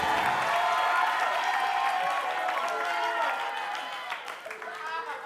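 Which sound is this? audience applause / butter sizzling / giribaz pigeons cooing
audience applause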